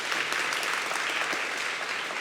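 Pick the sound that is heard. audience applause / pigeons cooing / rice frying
audience applause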